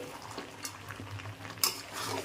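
Mutton curry masala sizzles and is stirred in a pan while being sautéed, giving a steady soft bubbling and frying hiss. Brief scraping clinks of the spoon against the pan cut through, and one sharper clank comes near the end.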